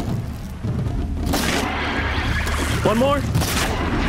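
Gunfire and blasts strike a Strider machine in the Horizon Zero Dawn video game, heard as bursts of booming impacts and crashes with synthetic mechanical squeals, loud and near, mixed with a person speaking.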